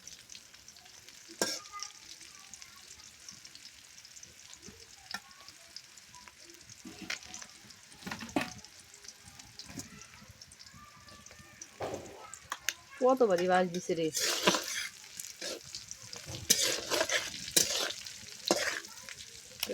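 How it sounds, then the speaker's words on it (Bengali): Chicken liver frying in a pan in a village kitchen, with a steady faint sizzle and scraping stir strokes throughout, and someone speaking briefly partway through. "গা ভাজা প্রায় শেষ হয়ে গেছে কালো কালো হয়ে গেছে আর একটু ভাজা হবে"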